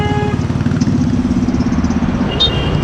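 A car engine held on the handbrake, idling and revving with a steady low rumble and rhythmic throb, loud and close inside the vehicle, alone without talk.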